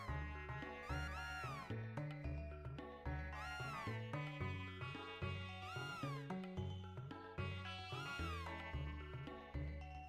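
Repeated meows from the cat that stays with Magus in Chrono Trigger recur every couple of seconds over continuous game music, with no voices.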